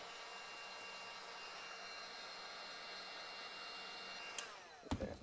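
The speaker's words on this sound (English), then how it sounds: "So I've got the heat gun here." A heat gun blows steadily on 3M adhesive tape on a motorcycle helmet chin mount, a constant airy whir that runs unbroken before a few sharp handling knocks near the end.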